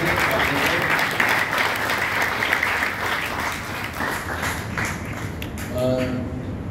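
An audience at a religious camp at Shadani Darbar Tirth breaks into sustained applause to welcome a revered spiritual guest. The dense, loud clapping thins toward the end, and a voice sounds faintly beneath it.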